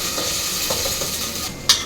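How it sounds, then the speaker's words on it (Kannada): Chopped capsicum and onion frying on low flame in a pan, a continuous close sizzle with brief stirring scrapes and a sharp clink of the utensil at the end. "ನೆಕ್ಸ್ಟು 1 ಕಪ್ ಆಗೋಷ್ಟು ಈ ಕ್ಯಾಪ್ಸಿಕಮ್ಮು ಮತ್ತು ಇದೆಲ್ಲ ಸ್ವಲ್ಪ ಫ್ರೈ ಆಗಲಿ."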